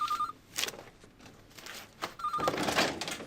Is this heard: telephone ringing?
yes